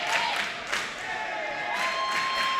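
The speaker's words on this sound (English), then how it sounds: "And a very happy Whaler cheering section." A happy high school basketball cheering section roars for New London's Whalers over Waterford as the final buzzer sounds, with a steady wash of crowd cheering and applause and a sustained tone running through it.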